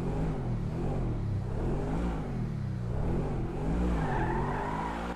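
Truffade Adder supercar engine in GTA 5 Online roars continuously and loud, with rising and falling revs and some tire squeal, no talking.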